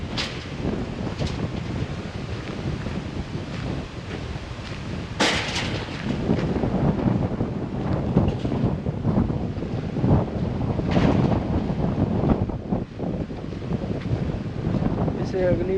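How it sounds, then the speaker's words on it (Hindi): Strong wind buffets the microphone at James Bond Island near Phuket, Thailand, with loud, continuous gusty rumbling and surging blasts, and a voice speaks under the roar. "हवा बहुत तेज़ चल रही है।"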